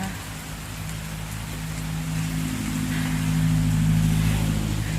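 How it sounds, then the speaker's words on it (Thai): Steady light rain pattering down with a soft continuous hiss, growing slightly louder, over a low engine-like drone. "ได้ฟังฝนดีไหมเนี่ย ตกไม่ค่อยแรงน้ำตกแซ่ๆนะ"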